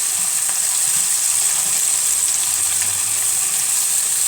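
Onion fries in a pot at a steady, loud sizzle with a dense hiss that never lets up, and faint stirring can be heard under it.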